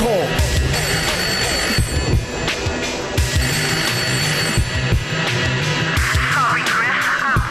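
Within a hip-hop song, a telephone ringing effect trills repeatedly over a busy beat and layered music, with bright ringing bursts recurring throughout.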